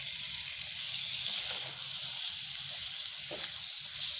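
Spice paste sautés in a pan with bay leaves, lime leaves, bruised galangal and lemongrass for opor ayam, a soft continuous sizzling hiss at low level throughout, with no talking.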